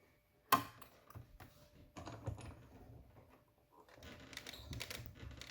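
Hand-cranked die-cutting machine feeding garden green cardstock through worn, cracked cutting pads. A sharp click comes first, then quiet grinding and ratcheting bursts as the crank turns, close and faint.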